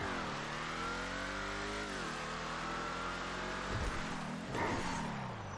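A Ruiner ZZ8 car in a video game revs hard as it drives and drifts, the engine pitch climbing and dropping through gear changes, loud and continuous with brief tire-scrub noise near the end.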